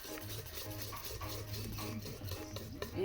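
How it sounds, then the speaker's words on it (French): Batter being stirred in a bowl with salt added, a steady soft scraping and swishing at close range, continuous over about three seconds with light clinks of the utensil. "Je vais remuer ma pâte."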